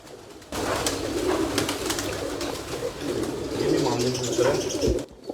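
Domestic pigeons coo repeatedly at close range, their soft rolling calls continuing steadily over a busy background murmur.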